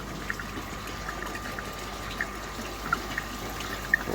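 Water flows steadily through an Eazypod vibratory tumbler, a faint continuous wash with a low hum and occasional small ticks from the machine.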